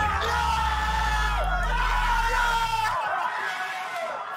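An excited person yells and whoops loudly, a burst of over-the-top cheering that stops abruptly near the end.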